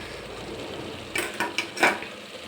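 Masala in oil is being stirred around a pan, giving a few short scraping and clinking strokes of a spoon over a steady low sizzle, close by with no voices.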